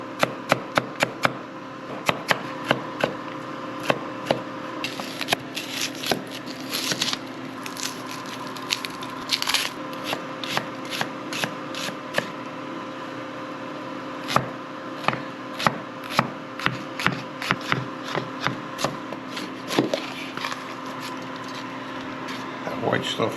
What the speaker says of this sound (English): We're gonna cut our celery, onions, and red peppers here.